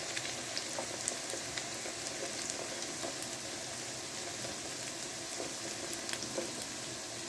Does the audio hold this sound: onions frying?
yes